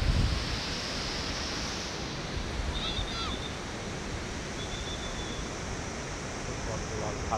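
Sea waves off the coast at Asilah wash in as a broad, continuous hiss and roar, steady and fairly loud with wind, while no one talks.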